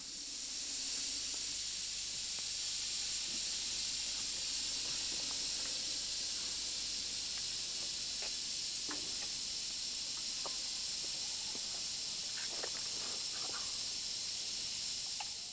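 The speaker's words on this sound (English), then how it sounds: "Here we are at the engine shed, where several locomotives are in the process of getting steam up" Steady, broad hiss from several steam locomotives raising steam at an engine shed fills the scene without a break, with scattered faint clanks and knocks in the background. No voices.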